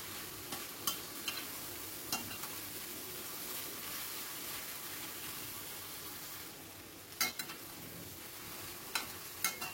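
Meat seasoned with salt being stir-fried in a pan, giving a steady close sizzle with a few sharp clicks and scrapes of the stirring utensil.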